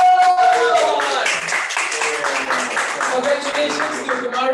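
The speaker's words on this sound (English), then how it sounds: "Give them another round of applause" An audience applauds at a weight-loss testimonial showcase, a steady burst of many hands clapping that stays loud and fades slightly toward the end.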